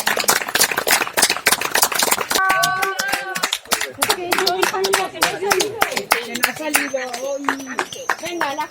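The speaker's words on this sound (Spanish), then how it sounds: "este aplauso va para todos los familiares" Dense, lively group clapping at the Residencia Comarcal de Sobrarbe care home keeps up a fast, uneven patter, close and loud, while voices speak and sing over it.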